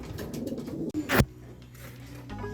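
Racing pigeons coo in low, soft, rolling murmurs at a mid-race toss, steady and close, with one brief louder rustle or flap partway through.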